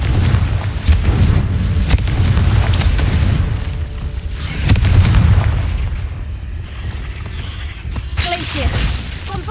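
A Confringo fire spell explodes in Hogwarts Legacy inside a cave, a loud booming blast with crackling debris, followed by further heavy impacts and a shattering burst, while a player calls out spell names over the action.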